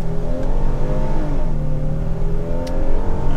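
2023 Hyundai Palisade Calligraphy AWD accelerating at full throttle from inside the cabin, its engine droning and rising steadily in pitch, loud and continuous with no talking.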